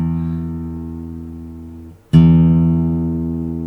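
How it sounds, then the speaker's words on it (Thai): A low guitar note fades, then the open A fifth string is plucked and rings out strongly, decaying slowly. "สาย5เป็นเสียง A"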